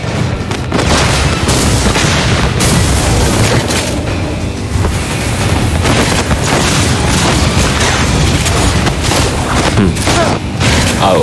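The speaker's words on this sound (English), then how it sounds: "Your team destroyed a turret!" Mobile Legends: Bang Bang mobile game battle as a turret is destroyed, dense continuous booms, blasts and skill impacts layered with game announcer voice lines, loud and busy throughout.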